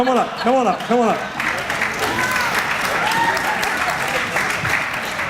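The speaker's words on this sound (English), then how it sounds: "let's give him a round of applause" An audience at a violence-response training session breaks into sustained applause after a short burst of talking, the clapping steady and fairly close throughout.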